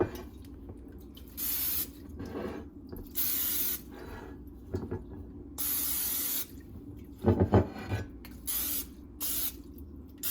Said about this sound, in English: We're just going to spray that with some vegetable oil.